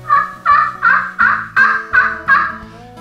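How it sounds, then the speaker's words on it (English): A turkey pot call worked by circling the striker gives a series of seven loud, raspy yelps in an even rhythm, each note sharp and close, with no voices. "taking the striker and moving it in a circle. It's gonna create a yelp."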